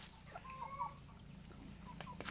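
Native chickens and chicks cluck and peep softly on a farm, short overlapping calls over a steady low background hum.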